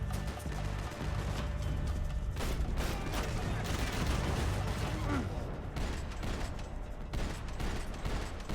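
AK assault rifle gunfire in Max Payne 3 crackles in dense, rapid bursts amid loud game combat noise, with a voice talking over it.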